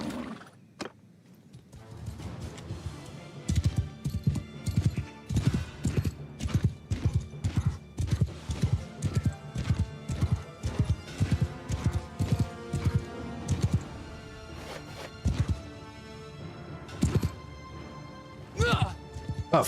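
Cavalry horses gallop in a fantasy battle video game, a rapid drumming of hooves building after a quiet start and continuing rhythmically, with a voice talking over parts of it.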